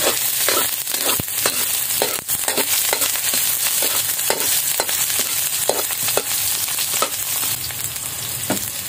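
Garlic, onion and ginger fry steadily in a hot pan, a dense continuous sizzle with scattered sharp crackles and pops throughout, loud and close with no talking.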